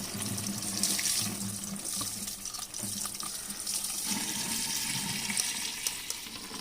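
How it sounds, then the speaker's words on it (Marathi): Water pours into a jar of boiled mangoes in a steady, faint splashing stream that runs without a break, with no voices over it. "आता ना पाणी ओतूया त्याच्यामध्ये"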